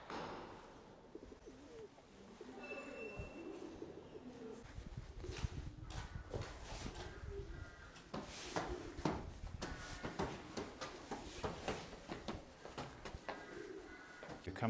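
Pigeons and doves coo and call repeatedly in the grounds of an old Russian kremlin at Rostov Veliky, with ducks nearby. The calls stay steady and fairly close, mixed with clattering handling noises and scattered talk.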